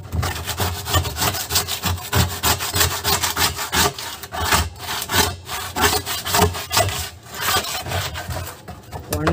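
A sponge scrubs hard and steadily against a plastic water drum to strip off paint softened with turpentine, giving a loud, close, continuous rasping rub with rapid back-and-forth strokes and no talking.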